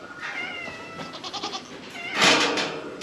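Goats on a farm, including newly introduced bucks, bleating close by in a few wavering, drawn-out calls, with one louder, harsher bleat near the end.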